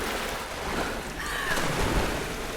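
Water splashing and flowing in the Tomb Raider video game, a steady rushing wash like surf with a faint higher swish midway.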